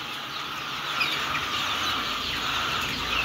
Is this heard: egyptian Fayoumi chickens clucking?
yes